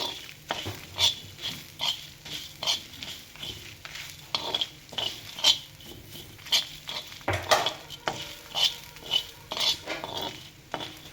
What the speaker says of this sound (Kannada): ನಾವು ತೆಂಗಿನ ತುರಿನ ಹಾಕ್ಕೊಂಡು ಈ ರೀತಿಯಾಗಿ ಫ್ರೈ ಮಾಡ್ಕೋಬೇಕಾಗುತ್ತೆ